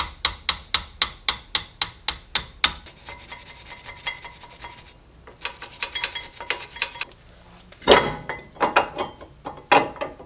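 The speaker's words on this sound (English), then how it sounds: "let's take off the brake pads and go ahead and put the new ones on" Fast, regular ratchet clicks in bursts from hand tools working on a car's brakes while brake pads are removed and new ones fitted, mixed with scraping and rubbing of metal parts. The clicking is close and sharp, with pauses between bursts and no speech.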